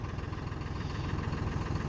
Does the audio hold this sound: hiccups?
no